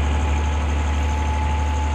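A YTO Agri Master 1204 tractor engine drones steadily while pulling a large imported cultivator, a loud, constant low rumble with a steady tonal hum and no break or speech.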